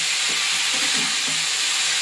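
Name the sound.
sautéing pumpkin stems in a pan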